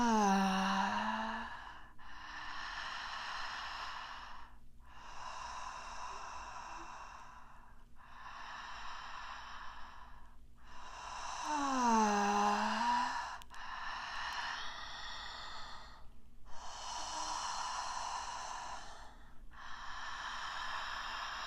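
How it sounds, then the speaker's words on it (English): Slow, deep human breathing with long, evenly spaced inhales and exhales, close and quiet, including a few sighing, snort-like breaths and no talking. "I'll go ahead and breathe again for a moment"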